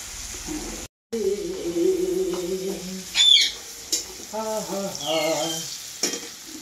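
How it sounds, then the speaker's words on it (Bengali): Tomatoes and onions frying in a pan, a steady close sizzle with stirring scrapes throughout, a brief dropout near the start and a few bird calls in the background. "এইভাবে খুব সুন্দরভাবে আমি টমেটোটাকে ভাজি নিই।"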